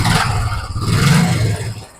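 Royal Enfield Classic 350 BS3 single-cylinder engine revved with a sudden throttle blip, a loud close rumbling drone with low thumping that swells and then eases off at the end.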